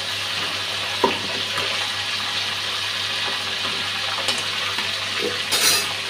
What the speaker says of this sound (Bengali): অল্প অল্প ভেজে নিচ্ছি।